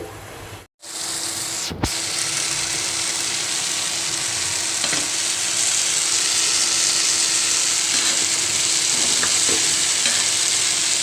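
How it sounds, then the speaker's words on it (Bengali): Tomatoes cooking in a covered pan, being turned over: a loud, steady frying hiss that runs throughout, opening with a brief knock and a clatter as the pan is handled. "ঢাকনা দিয়ে ঢেকে দিচ্ছি আমি উল্টিয়ে পাল্টিয়ে টমেটোগুলো একেবারে ভালোভাবে সিদ্ধ করে নেব"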